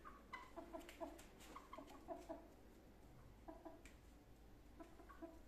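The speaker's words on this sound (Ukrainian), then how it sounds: "Ось наші троє курчат," Three young chickens hatched in September, out in frosty winter weather, clucking in soft, scattered bursts with short pauses between them, faint and at a modest distance.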